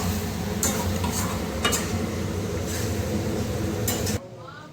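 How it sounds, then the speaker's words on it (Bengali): Chicken scraps being stirred and sautéed in a pan make a steady close sizzle with scraping stirring strokes and occasional metallic clinks, then the frying suddenly drops away near the end. "এবার সুন্দর করে কষিয়ে নিতে হবে।"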